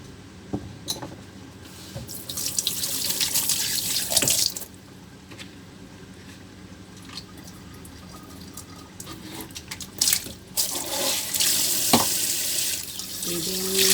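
Running tap water splashes into a sink while vegetables are washed, with cabbage and carrots mentioned; a steady near rush of water with brief clinks and squishes, dipping and surging as the flow is interrupted.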